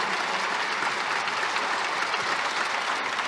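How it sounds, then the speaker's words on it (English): Audience applause at a basketball courtside conversation event, a dense continuous wash of clapping from a large crowd holding steady for about three seconds. "I think we need another round of applause for these guys."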